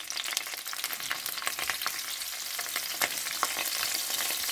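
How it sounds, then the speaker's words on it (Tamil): Dried fish fries in hot oil for Sri Lankan style seafood nasi goreng, giving a close, crackling sizzle with sharp pops and spatters scattered throughout, alone without speech. "இப்போ நான் கருவாட்டை போட்டு பொரிச்செடுக்க போகிறேன்."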